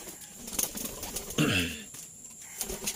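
Pet pigeons in their cage coo in a brief, soft burst near the middle, with light rustling and faint wing movement around it; no one speaks.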